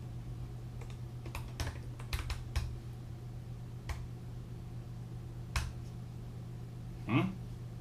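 Someone types a password on a Late-2016 MacBook Pro keyboard: sparse, close key taps and clicks in small irregular bursts over a quiet room hum, with one louder knock near the end.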